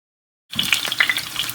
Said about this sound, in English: I am going to continue put in the turkey and allow it to fry lightly